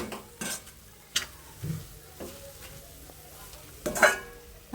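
Cardamom powder being stirred into a sweet coconut modak filling in a pan, with a few sharp scrapes and clinks of a spoon against the metal at irregular intervals, close and fairly quiet, with no talking.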